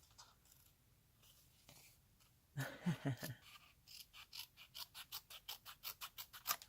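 Scissors fussy cutting around a stamped paper image, faint at first, then a quick run of crisp rhythmic snips up close, no talk.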